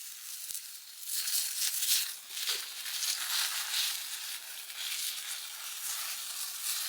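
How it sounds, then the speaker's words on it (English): Steaks sizzle steadily on a camp stove in cold winter weather, with a continuous close, crackling hiss that swells and dips. No voices are heard over it. "just throw seasoning on the tops of those ones that are already there cooking"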